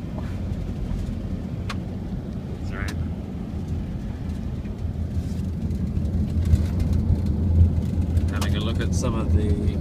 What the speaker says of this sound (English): Shane's driving us in the school four-wheel drive